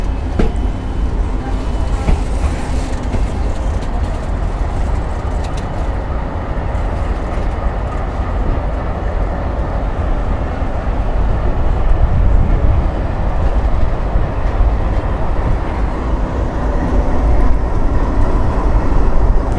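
An Indian Railways NWR WDP 4D diesel locomotive on a train through the Rajasthan desert, heard as a loud, continuous rumble of rolling wheels and engine drone that swells slightly toward the end.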